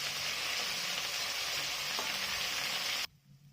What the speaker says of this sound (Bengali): করলাগুলো ভেজে বেশ একটু ভালো করে ভাজতে হবে